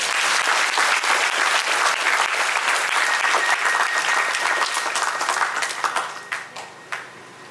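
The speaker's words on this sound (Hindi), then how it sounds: "और एक जोरदार ताली भी बजाएंगे।" Loud applause from the congregation at a Catholic priestly ordination in a church, dense and sustained clapping that thins out near the end into a few scattered last claps.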